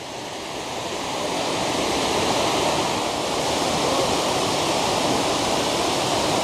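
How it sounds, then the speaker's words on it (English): An autumn waterfall in Karuizawa, Japan, roars in a steady broadband rush. It swells in over the first second, then holds a constant, full wash of falling water with no voices. "So I will be focusing on the waterfall"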